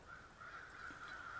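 Crows cawing outdoors in the evening: a faint, continuous raspy chorus of calls from birds at a distance, with no voices.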